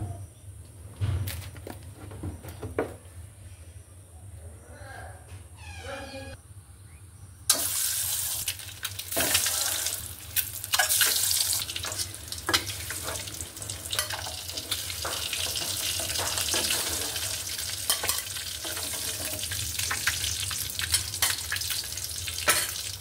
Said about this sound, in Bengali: এখন আমি ডিম ভুনা করব।